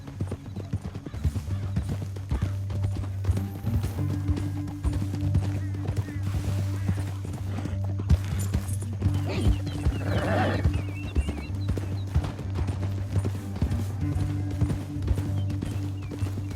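Rapid hoofbeats of a galloping horse in Red Dead Redemption 2 pound steadily throughout, over a droning musical background, with a neigh rising near the middle.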